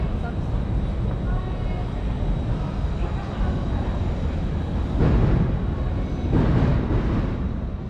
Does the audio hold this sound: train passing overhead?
yes